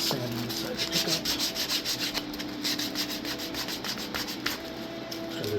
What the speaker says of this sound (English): Sand off any little nubs. Like sand inside the pickup.